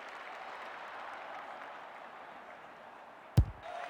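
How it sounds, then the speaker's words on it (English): Broadband crowd roar from a simulated stadium in the Australian rules football video game AFL26, steady and sustained for several seconds before a sharp thud and a brief shift in the noise near the end. "The crowd noise tells you all you need to know."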